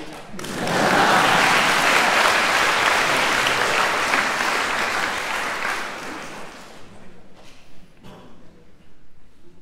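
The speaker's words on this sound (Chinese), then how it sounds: "现在可以鼓掌。" Concert audience at Tainan National University of the Arts bursts into loud, dense applause after a classical piece, swelling quickly, holding steady for several seconds, then thinning out into scattered claps.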